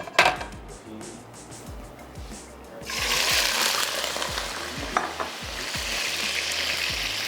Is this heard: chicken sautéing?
yes